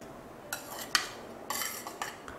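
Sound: macaroni being put into a bowl with a spoon

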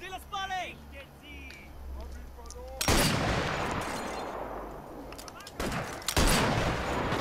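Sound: gunfire shooting at the player in video game Sniper Elite VR

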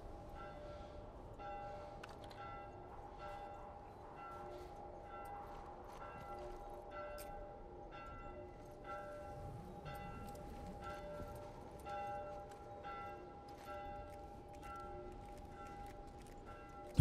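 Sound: bell ringing in video game The Last of Us

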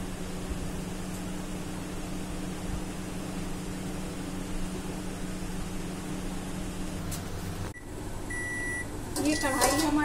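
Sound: microwave oven running

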